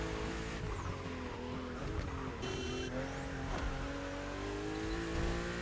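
BMW M2 and M4 race cars in The Crew Motorfest roar along a narrow, twisting road, engines droning loudly with shifting revs, tire squeal and a passing whoosh, close and continuous.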